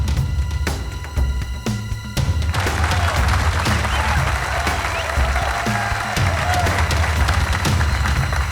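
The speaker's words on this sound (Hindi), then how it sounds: "तालियां" A crowd applauds in a steady, dense wash of clapping, with a few heavy thumps near the start before the clapping settles into a sustained, even roar.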